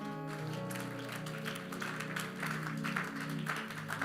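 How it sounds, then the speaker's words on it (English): Church congregation clapping during a sermon, a dense, steady patter of many hands under sustained musical tones, holding at an even level throughout. "If you can clap, do it."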